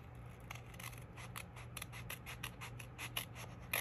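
Scissors snip through paper in quick repeated cuts while a sticky note folder and envelope are trimmed by hand, each crisp close snip following the last in an uneven rhythm over a low steady hum.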